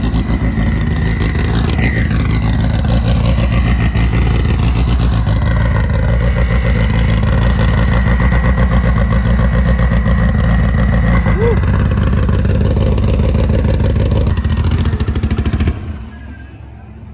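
A freshly wrapped race car prepped for a PSCA event idles as it warms up, with the crank sensor cutting in and out. The engine runs loud and steady and close by for about fifteen seconds, then drops away sharply near the end.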